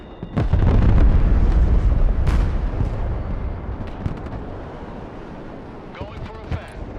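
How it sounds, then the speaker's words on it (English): Airstrike explosions in a battlefield video game: a heavy blast lands with a deep boom and long rumbling roll, a second sharp burst follows, then scattered distant thuds and crackles fade under radio chatter. "Airstrike complete."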